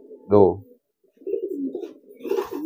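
Low, throaty pigeon coos close by, a short burst followed by softer, longer rolling coos.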